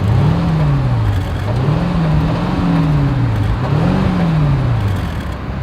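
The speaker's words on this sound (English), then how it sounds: "As always, here is that exhaust clip." A Mercedes-Maybach engine revs repeatedly through its exhaust, the pitch rising and falling in several loud, close sweeps over a steady rumble.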